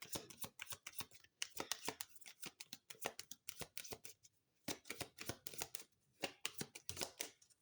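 A deck of tarot cards is shuffled by hand in quick, rapid bursts of riffling and slapping, close and quiet, with brief pauses between runs.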